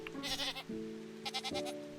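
A goat in the farming game Echoes of the Plum Grove bleats in two wavering calls with a tonal musical backdrop, fairly loud and close, and no one speaks.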